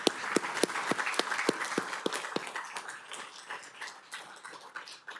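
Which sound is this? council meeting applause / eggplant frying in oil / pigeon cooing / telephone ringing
council meeting applause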